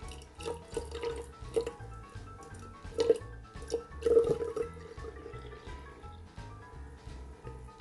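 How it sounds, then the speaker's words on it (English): Water is poured from a measuring cup into a jug, a soft trickle broken by small splashes and drips that grow a little louder partway through, with no voices. "So I'm going to pour it out of here and hopefully not spill too much into this jug"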